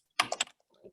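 A few quick keystrokes on a computer keyboard at a desk, a short burst of three or four close clicks followed by a softer tap.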